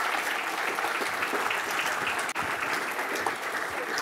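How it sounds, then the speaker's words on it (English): Sustained applause from an audience at a faculty talk on Penn State history, a steady dense wash of clapping, moderately loud and unbroken apart from one brief dip. "Let's have another round of applause for Roger Williams"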